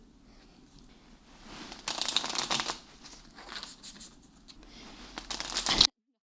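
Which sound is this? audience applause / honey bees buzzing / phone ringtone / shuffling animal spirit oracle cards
shuffling animal spirit oracle cards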